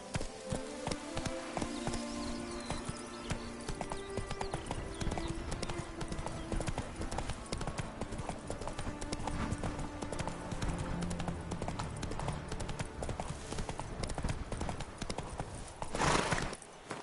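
A horse gallops in The Witcher 3 with steady, loud clip-clop hoofbeats throughout, a brief whinny near the end, and a rider's voice calling out over the hooves.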